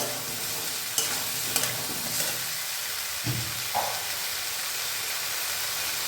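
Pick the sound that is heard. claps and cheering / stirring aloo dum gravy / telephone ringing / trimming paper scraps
stirring aloo dum gravy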